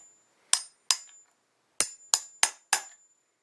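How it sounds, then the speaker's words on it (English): A hammer knocks a Casablanca ceiling fan bearing down onto its shaft in six sharp, close metallic strikes: two about a third of a second apart, a pause, then four more at a quicker, steady rhythm, each ringing briefly. "Just hammer it down."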